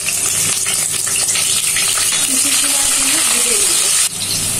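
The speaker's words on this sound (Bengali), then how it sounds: "এখন অ্যাড করব পরিমাণ মতন সাদা তেল, পেঁয়াজ ও কাঁচামরিচ কুচি হাফ কাপ" Chopped onion and green chili sizzling in hot white oil in a heated kadai, a steady loud frying hiss holding throughout, then easing slightly near the end.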